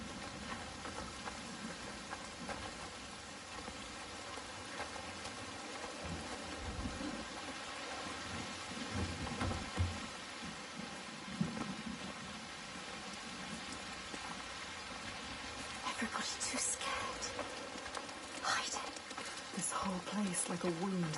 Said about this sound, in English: The constant storm.